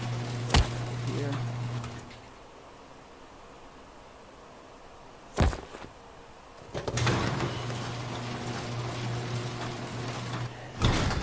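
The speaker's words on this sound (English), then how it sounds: "Automatically closing the door, so we know it's getting power." An automatic door slides shut in the Rust video game, with a sharp thud, a quiet gap, another thud and then a longer sliding rush, with a low hum underneath.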